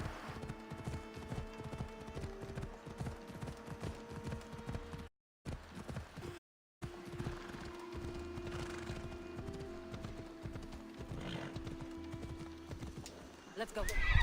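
Horse hooves clip-clop in a steady walking rhythm in the video game Assassin's Creed Odyssey, with a whinny, game music and a voice talking over the ride.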